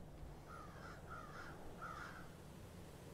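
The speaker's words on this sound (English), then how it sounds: "mysteriously wake up in a pumpkin field surrounded by the sound of distant crows." Several distant crows caw in a slow series of harsh calls over a steady outdoor background hum in a pumpkin field in the military game Arma 3.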